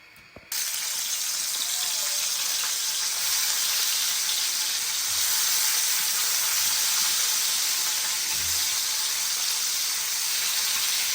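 Pieces of fish coated in turmeric and chili powder fry in hot oil, giving a continuous, fairly loud hiss that starts abruptly and holds steady throughout with no talking.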